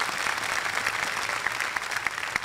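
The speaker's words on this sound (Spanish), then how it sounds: "Dele un fuerte aplauso a nuestro Señor" A church congregation gives a strong, steady round of applause during a worship service, dense continuous clapping filling the room with no talking over it.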